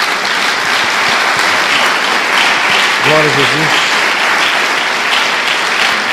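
A congregation applauds at a Portuguese-language church service, continuous loud clapping throughout with a voice briefly calling out over it.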